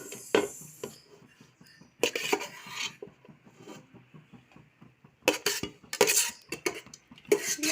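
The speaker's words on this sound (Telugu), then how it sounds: "చికెన్ తీసేసి తర్వాత రసం మనం స్ప్రెడ్ చేసినాం" A metal spoon scrapes chicken gravy from a cooking pot to layer a chicken biryani, giving repeated rasping scrapes and clinks against the pot in short bursts separated by quiet pauses.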